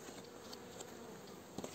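Honeybees at a hive give a faint, steady buzzing drone, with a few brief, slightly louder passes of individual bees near the end.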